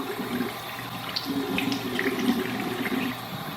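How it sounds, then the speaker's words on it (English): Water runs steadily from a bathroom sink tap as a face is rinsed during a skincare routine, a continuous close splashing with small irregular splashes from hands, no talking. "I'm gonna rinse off my face and pat it dry with my washcloth"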